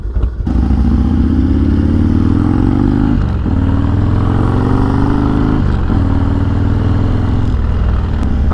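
A motorcycle rides along a road, its engine loud and close, climbing in pitch through repeated gear changes with short dips between shifts, and no talk over it.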